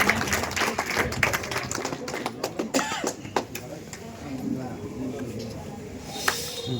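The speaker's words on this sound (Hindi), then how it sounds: "तो बच्चों एक बार जोरदार ताली के साथ में इनका सम्मान किया जाए।" Children clap together in a hall to honour a social worker at a Human Rights Day celebration, a burst of brisk, uneven applause mixed with chatter and voices.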